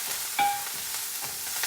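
Cumin seeds and garlic frying in warm oil while being stirred, a steady close sizzle with soft scraping strokes of the spoon through the pan, no voices.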